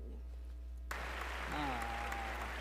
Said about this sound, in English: Some sweet applause.